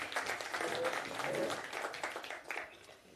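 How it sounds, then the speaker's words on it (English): An audience applauds at a talk, steady dense clapping that fills the room and tapers slightly toward the end, with no clear voices over it. "Give yourselves a round of applause."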